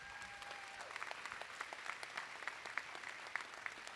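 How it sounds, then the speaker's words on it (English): Audience applause at an awards gala, a steady patter of many hands clapping at moderate distance, holding evenly for a few seconds with no talk over it. "Please give my scholars another round of applause."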